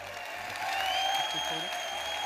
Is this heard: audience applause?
yes